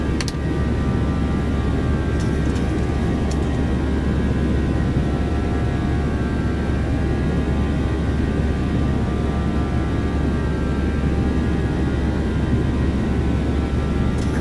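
Boeing 737-800 jet engines climbing out after takeoff in the X-Plane flight simulator, a loud, steady broadband roar with a constant low drone that holds unchanged throughout, with no talk.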